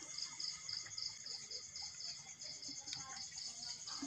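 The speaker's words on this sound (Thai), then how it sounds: "จิ้งหรีดก็ได้บักหลาย" Crickets chirp steadily at night in a rural field, a dense, continuous high trill with pulsing rhythm, fairly close and moderately loud, with faint scattered background sounds and no talking.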